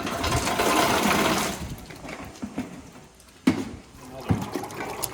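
Black walnuts tumbling and knocking against one another in water while being washed, a churning, sloshing rattle that is loud at first, then drops, with sharp knocks, under someone talking.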